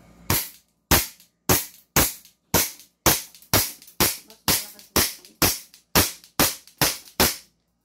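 An airsoft pistol fires about thirteen sharp, loud shots in a steady rhythm, roughly two per second, each a crisp crack with a quick decay, close up at a shooting range with no talk over it.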